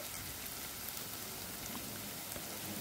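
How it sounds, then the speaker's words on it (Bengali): Onions and tomatoes sizzle steadily in a pan for a Bengali mustard fish curry, a faint, even crackle of frying with no talk over it. "টমেটোটা আরও খানিকক্ষণ ভেজে নেব, যাতে করে টমেটোটা একেবারে গলে আসে।"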